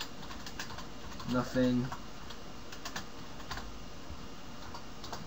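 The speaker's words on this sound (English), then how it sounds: "I just want to type in" Clicking computer keyboard keys, soft rapid taps spread through the clip at low level, with a brief voice speaking over part of it.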